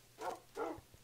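Two quick, soft barks from Minecraft dogs in the video game, close together and evenly spaced, with a faint thump or two after them.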